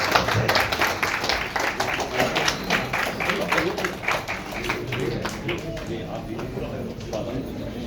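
An audience at a Mumbai Urdu teachers' union award ceremony applauds an award recipient, giving steady, dense clapping that fades slightly toward the end.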